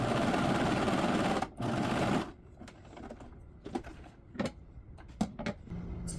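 A sewing machine stitches a cosplay waistcoat, a loud steady whirring run that stops briefly, resumes, then breaks into scattered short clicks and handling taps.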